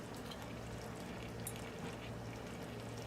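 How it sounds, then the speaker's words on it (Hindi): Kewra essence poured over layered Hyderabadi chicken dum biryani, a soft continuous liquid pour with a faint trickle against steady low kitchen hum, close and quiet throughout. "अब इसके ऊपर केवड़ा एसेंस शामिल कर दें"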